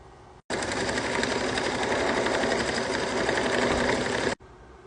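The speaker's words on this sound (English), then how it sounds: "The embroidery machine is going to tack it down." An embroidery machine tacks down glitter fabric, starting suddenly into a fast, even, mechanical stitching whir that runs loud and steady for about four seconds and then stops abruptly.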